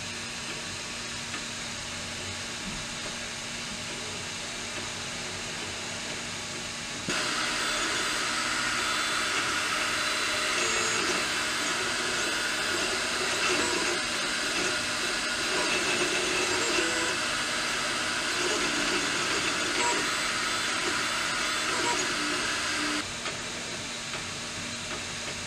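An AnyCubic i3 Mega 3D printer with a new controller and fan runs with a steady, fairly quiet whirring hiss that grows louder through the middle stretch, then drops back, with no one talking.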